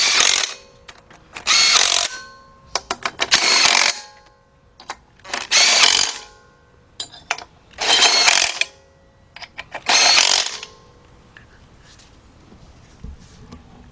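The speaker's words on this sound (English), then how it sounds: "now we're gonna go ahead and tighten up all 4 bolts" An impact wrench with a 12mm deep socket tightening four bolts during engine work on a 2006 Kia Sportage 2.7: repeated loud, rattling hammering bursts of one to two seconds, with short clicky pauses between them.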